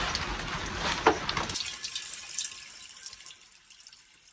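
Water gushes from a tap in an off-grid home kitchen for about a second and a half, then a softer trickle and faint drips continue alone.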